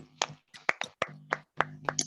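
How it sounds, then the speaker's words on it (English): Participants of an online ceremony clap in a scattered burst of several claps and taps, fairly close and moderately loud, with a low hum beneath. "please clap for her, please"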